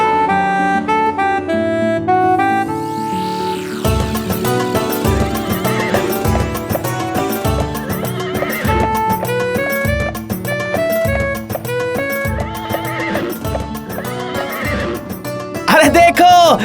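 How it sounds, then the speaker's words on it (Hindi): A horse in an animated Hindi folk-tale cartoon neighs loudly, and a rhythmic run of hoof clip-clops follows, all set against a bright musical score. "आज से ये घोड़ा तुम्हारा हुआ, तुम ही इसकी रक्षा करोगे।"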